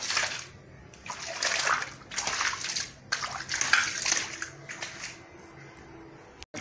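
Water splashing and sloshing while a soapy, foam-covered corridor floor is washed, repeated bursts of pouring and splattering close by, with brief pauses between throws and no talking.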